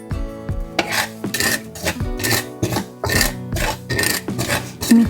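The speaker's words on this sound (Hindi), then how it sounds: "हम गरम पैन में खसखस डाल देंगे।" Poppy seeds being dry-roasted in a hot pan for date and fig rolls, heard as repeated scraping and stirring strokes against the metal in an uneven rhythm, close and fairly loud, with no talking.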